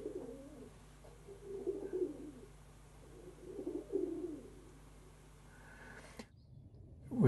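Feral pigeons coo under rooftop solar panels, low repeated coos rising and falling in soft bursts over a steady background hum, fading out near the end.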